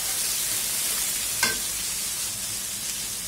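Turmeric and other spices sizzle in hot oil as they are stirred, making a steady hiss close by, with one brief sharp click partway through and no talking.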